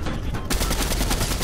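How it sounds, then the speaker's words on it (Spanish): Rapid video-game gunfire, a dense burst of repeated shots that grows fuller and louder after a brief moment, continuing without pause. "Yo les estoy pegando, les pegué un montón de tiros"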